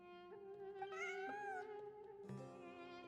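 A cat in the video game Genshin Impact meows twice, first a long, drawn-out call that rises and falls in pitch, then a shorter one. Both are clear and close over soft, steady game background sound.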